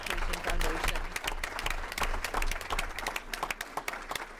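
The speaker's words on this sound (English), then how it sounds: "So a round of applause to the LPS Education Foundation." An audience at a school board meeting bursts into applause, dense clapping from many hands that swells, then thins into scattered individual claps, with some voices mixed in.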